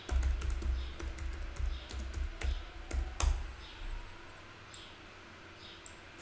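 Rapid clicking of a computer keyboard with uneven bursts of keystrokes, close and moderately loud, while someone builds a material in Unreal Engine 5, trailing off into quiet near the end.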